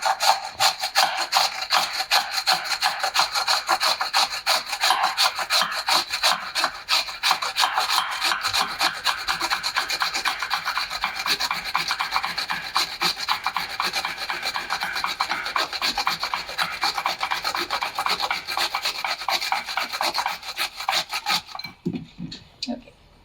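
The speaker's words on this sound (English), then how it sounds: "So we're just going to grate this right into a bowl." An English cucumber being grated into a bowl, a fast rhythmic rasping scrape repeated steadily and close for about twenty seconds before stopping abruptly.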